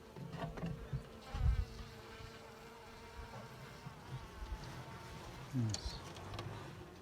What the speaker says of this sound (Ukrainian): на правній рамці бджоли достатньо